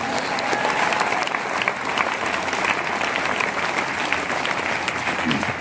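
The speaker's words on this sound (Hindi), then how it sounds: "आप सब तालियां बजा रहे हैं" A crowd at a company business meeting in India applauds continuously, a dense, loud wash of clapping that holds steady throughout.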